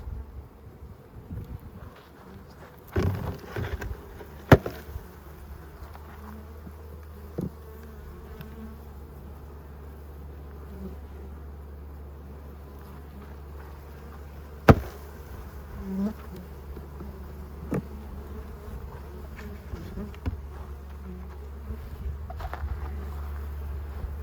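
Honeybees confined in a box for a mite count buzz in a steady close hum, broken by a few sharp knocks and clicks, with faint wind in the background.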